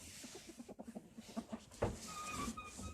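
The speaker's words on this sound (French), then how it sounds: "une poule connue, un coq connu, un coquenet, une poule pondeuse" Hens and a rooster in a farm pen, close clucking in short repeated bursts, then a sharper squawk and a busier mix of calls near the end.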